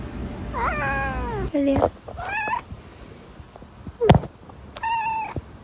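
A pet cat meows repeatedly, several drawn-out rising calls spread across a few seconds, close to the microphone, with a person speaking briefly between them.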